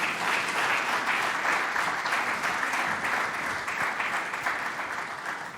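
Sustained applause from a large crowd at a stock exchange listing ceremony in Rwanda, dense, even clapping that holds steady and gradually softens toward the end, without speech.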